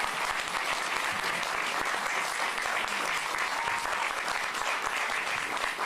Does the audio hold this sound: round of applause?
yes